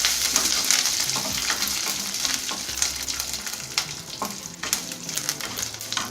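Chillies fry in hot oil for rice upma, a continuous close crackling sizzle with occasional stirring scrapes.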